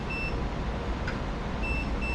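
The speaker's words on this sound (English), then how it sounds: "Anytime it's at or over its idle temperature, it beeps at you." A dye sublimation heat press beeps at idle temperature, giving steady high-pitched electronic tones that repeat in short pairs over a constant low hum.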